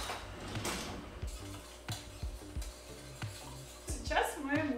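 A metal whisk clinks and scrapes against a pot while stirring dissolved baking soda in water, a rhythmic series of close, sharp taps and rubs, with a faint steady hum underneath.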